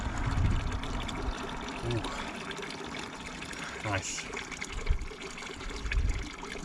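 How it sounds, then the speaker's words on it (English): Cold spring water trickling and gushing while water bottles are filled near the Tbeti Monastery ruins in Artvin, Turkey, a steady liquid splash close by with short remarks spoken over it. "we now filled the water and ready to go"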